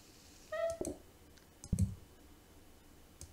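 Computer mouse clicks while playing PlateUp!, a few sharp, isolated clicks spaced irregularly against a quiet background, with one brief tonal beep from the game near the start.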